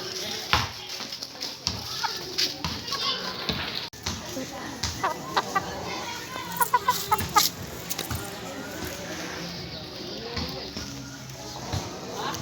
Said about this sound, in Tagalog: Tandang na walang kaliskis at inahin.